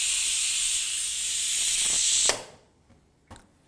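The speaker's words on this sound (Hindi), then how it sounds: "देखो कुकर की सीटी भी आ गई।" A pressure cooker on the stove, cooking saag paneer, lets out a loud, sustained steamy hiss that cuts off abruptly, followed by a couple of faint clicks and rattles.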